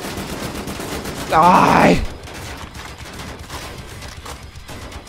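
Gunfire from guns in the video game Wolfenstein The New Order, a steady stream of rapid shots rattling throughout, with a voice shouting over the fire partway through.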